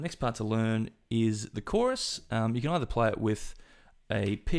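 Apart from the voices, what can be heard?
None of the usual background noises is heard.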